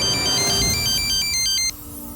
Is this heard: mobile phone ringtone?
yes